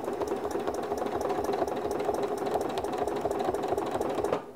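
Sewing machine running steadily while stitching through a quilt sandwich guided along a ruler, a continuous fast mechanical whir with rapid needle ticks, close and alone for several seconds, stopping at the end.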